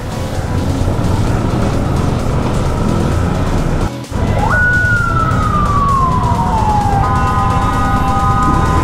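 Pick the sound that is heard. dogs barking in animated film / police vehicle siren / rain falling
police vehicle siren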